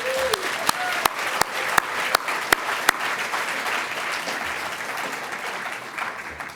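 At a cognitive neuroscience conference, an audience breaks into applause with a brief hoot at the start and several sharp, close claps standing out over the steady clapping, which thins and softens toward the end.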